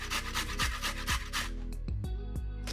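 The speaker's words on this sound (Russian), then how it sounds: "Одну морковь трем на крупной терке" Rapid, rhythmic rasping strokes of a carrot scraped over a coarse grater, close and steady, with a tonal hum running underneath.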